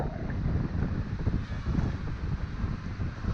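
Strong wind roars steadily around a DJI Ryze Tello drone flying outdoors in extreme gusts, a continuous rough buffeting rush that fills the whole stretch with no speech.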